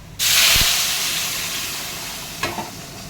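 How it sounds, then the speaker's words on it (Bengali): A sudden loud sizzle and hiss as hot water is poured into a simmering curry in a hot pan, holding steady and slowly easing off, with a brief clink near the end. "এই গরম জলটা আমি এখন তরকারিতে ঝোলে দিয়ে দেবো"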